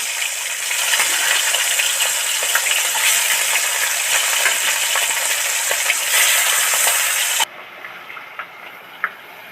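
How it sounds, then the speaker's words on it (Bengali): Fish sliding into hot oil in a wok sets off a loud, steady crackling sizzle that fills most of the stretch, then drops suddenly to a quieter spitting fry with a few sharp pops near the end. "করে মাছগুলো সব কড়ার মধ্যে ছেড়ে দিচ্ছি"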